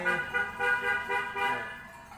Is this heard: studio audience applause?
no